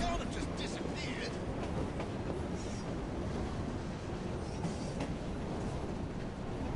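A train rumbles past in an online multiplayer video game, a steady dense roar with faint clattering running throughout, while a player talks over it.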